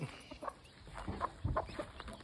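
Free-range gamefowl chickens cluck and call in scattered bursts around a yard, moderately close, with a steady outdoor background hiss.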